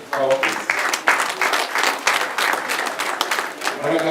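Audience applause at a Miss Rwanda-style pageant event in Rubavu, sustained clapping from a crowd mixed with cheering voices, fairly loud and continuous throughout.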